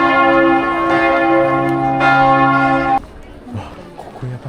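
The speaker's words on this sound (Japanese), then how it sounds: "12時の鐘だ。" Church bell in Budapest tolling at noon, loud and sustained with rich ringing overtones, two strong strikes before stopping abruptly, leaving faint outdoor crowd murmur among many tourists.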